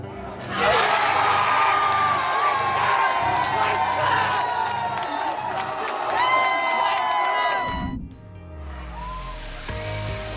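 Loud stadium crowd cheering and whooping at a World Cup victory, a sustained roar with shrill shouts that suddenly drops away near the end before noise rises again.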